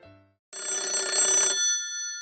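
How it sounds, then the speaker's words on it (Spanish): A telephone bell rings loudly in one sustained burst of about a second, its tone hanging briefly as it fades; no one speaks. "El sonido del teléfono lo sacó de sus pensamientos."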